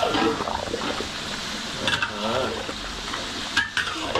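Chicken kosha sizzles in a pot while a spoon stirs and scrapes through the thick masala, steady frying hiss with a few louder clinks of utensil against metal.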